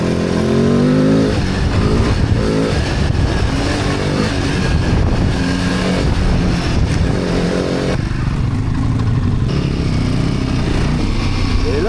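Royal Enfield Himalayan motorcycle ridden off-road on a trail in Brittany, its engine droning steadily and loud throughout with rough surges and rumble, wind and vibration mixed in.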